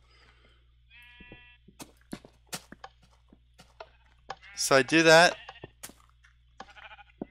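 A sheep bleats once, loud and close, in a blocky Minecraft-style survival game, standing out amid sparse clicks and game effects while someone talks briefly nearby.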